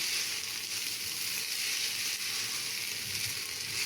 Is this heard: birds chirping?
no